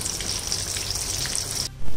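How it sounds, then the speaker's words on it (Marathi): Tea-time snacks deep frying in oil over a low flame, a steady close hiss and crackle of bubbling oil that runs unbroken before cutting off abruptly near the end. "सगळ्या बाजूने छान असे गोल्डन कलर येईपर्यंत फ्राय करून घ्यायचे"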